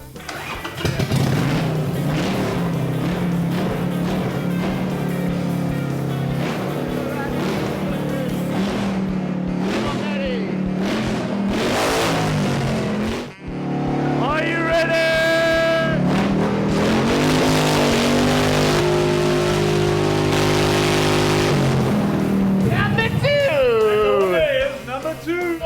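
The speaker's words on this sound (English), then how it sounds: "Oh, this bike is incredibly loud." A loud custom motorcycle revs hard at a custom-bike competition, its engine roaring and surging in pitch continuously, with a brief dip midway, while voices speak under the noise.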